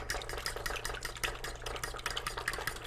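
Soft, continuous stirring and mixing of sugar, salt, instant yeast and an egg in a bowl, a steady wet scraping texture over a low background hum.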